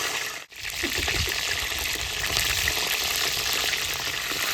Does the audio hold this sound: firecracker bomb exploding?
no